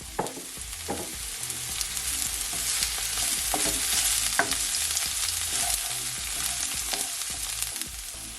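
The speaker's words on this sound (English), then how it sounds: "You're just gonna leave it to saute, guys, for at least 30 seconds" Garlic sautéing in a pan, giving a steady, dense sizzle with occasional soft stirring scrapes, continuous and close throughout.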